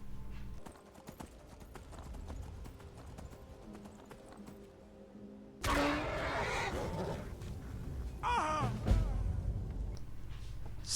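A horse named Frost in the video game Skyrim clip-clops at a steady pace, then gives a loud, close whinny partway through, with rising neigh calls and rustling behind.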